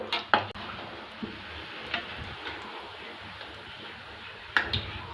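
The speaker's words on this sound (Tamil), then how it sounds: "இப்படி மெதுவாக வந்து கலந்து விட்டுட்டே இருந்தோம்னா ஈவனாக வந்து ஃப்ரை ஆகி வரும்" Egg lollipop balls fry in oil under a faint, low sizzle while a spoon stirs them, with a few sharp clinks against the pan.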